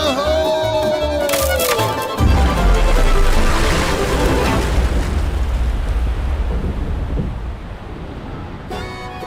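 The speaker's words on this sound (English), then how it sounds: "Tower's gonna blow! Fire in the hole!" A theme-park ride's tower explosion effect at Silver Dollar City's Fire In The Hole: a loud horn-like tone, then a sudden heavy boom about two seconds in with a long rumbling roar that slowly fades, and a brief clatter at the end.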